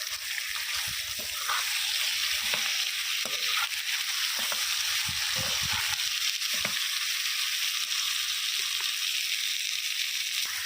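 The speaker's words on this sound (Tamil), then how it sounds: "சிக்கன் வெங்காயம் இஞ்சி பூண்டு விழுது எல்லாம் நல்லா ஃப்ரை ஆகும்" Two kilos of chicken fry with onion and ginger-garlic paste for a chilli fry, a steady loud sizzle broken by scraping stirs and clanks from the pan, with no voices.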